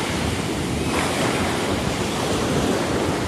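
Ocean surf washes steadily onto Tatado beach in Shimoda, a constant close roar of breaking waves mixed with gusty wind buffeting the microphone.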